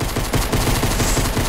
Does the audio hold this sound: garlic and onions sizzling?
no